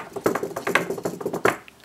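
The Betty bomb, a paintball and airsoft prop, is shaken by hand, giving a quick burst of rattling and tapping knocks from its internal parts, close and moderately loud, with no talk.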